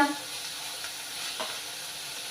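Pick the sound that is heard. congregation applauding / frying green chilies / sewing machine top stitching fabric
frying green chilies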